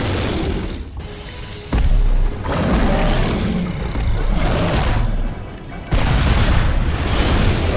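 Heavy booming rocket explosions from the shooter game Duke Nukem Forever, three loud blasts at intervals over constant rumbling combat noise, close and powerful.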